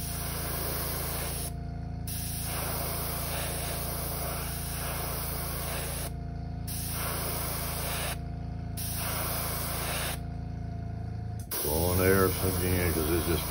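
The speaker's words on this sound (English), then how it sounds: "I like this blue, but it is hard to airbrush. I'm just blowing some air on it." An airbrush loaded with blue paint hisses steadily over a fishing lure in several long bursts broken by brief stops, close and constant, followed at the end by a person speaking.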